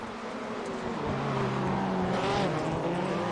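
Rallycross race cars launch off the start line at Echo Park Speedway, engines roaring in a sustained, loud blend with rising pitch as they accelerate away together.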